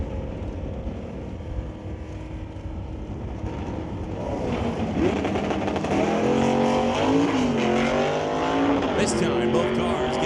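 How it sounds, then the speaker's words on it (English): A Ford F-150 and a 1964 Comet launch side by side at a drag strip, engines swelling from a rumbling idle into a loud, rising roar as both cars pull away, with announcer commentary running over it. "This time, both cars get away on the green."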